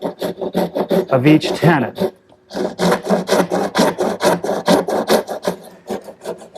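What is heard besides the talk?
dovetail saw making shoulder cuts in wood tenons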